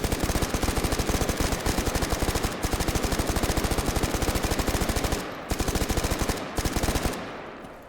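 Sustained machine gun fire in a video game, a rapid, loud, steady stream of shots lasting several seconds with two brief breaks before a final burst and trailing echo.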